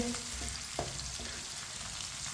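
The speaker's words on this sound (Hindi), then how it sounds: "टमाटर को 2 मिनट के लिए पका लेंगे इसी तरह चम्मच लाते हुए" Chopped tomatoes with green chillies cooking in a pan while being stirred with a spoon: a soft, continuous sizzle with a few light scraping stirs near the start.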